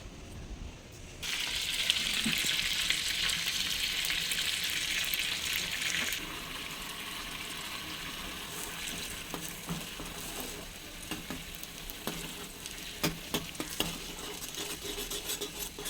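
Homemade butter heating in a pan to make ghee, with a steady loud sizzle and frying hiss early on that eases into quieter bubbling, broken by scattered clinks and stirring scrapes of a utensil.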